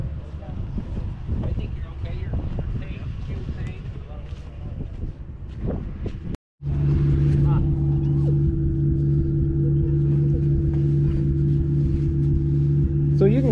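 A loud, steady low engine drone from a running generator exhaust, briefly cut off midway and then resuming with a constant hum, with talking in the background.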